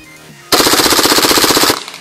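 A KWA MP7 gas blowback airsoft gun fires a sustained full-auto burst of about 1.2 seconds, a loud rapid rattle of closely spaced shots that begins abruptly and cuts off cleanly, with no voices.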